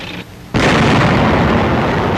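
A WWII tank destroyer fires during 1944 combat in France, a sudden heavy boom after a brief lull that rolls into a long, loud roar of blast and debris.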